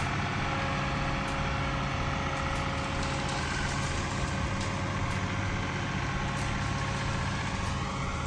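A John Deere 2038R compact tractor fitted with a grapple runs steadily close by, its engine giving a continuous, even rumble with no pauses and no voices.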